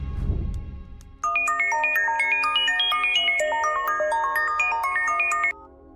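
A mobile phone ringtone in a Bangla thriller movie plays a bright, looping electronic melody, loud and steady for about four seconds after a low thud, with no talk over it.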